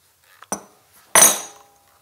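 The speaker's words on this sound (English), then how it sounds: "Now to get wrench, because I'm going to loosen this cable gland" A metal wrench handled while loosening a cable gland, giving a small tap, a sharp clink, then a louder ringing metallic clank that fades, all close by in a quiet room with no talk.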